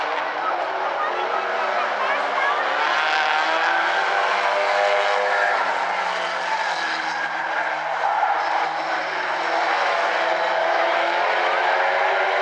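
Stinger 8 race cars in an A-Main at South Sound Speedway, with a loud, continuous roar of several engines blending together, steady throughout and close by.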